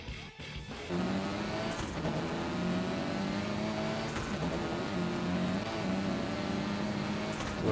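A car engine in the racing video game Gravel revs hard and holds a steady, droning pitch with brief gear-shift dips, loud and continuous throughout.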